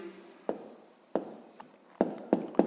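A pen writes an answer by hand on paper, giving several soft scratchy strokes and taps spaced irregularly over a few seconds, close and quiet with no voices.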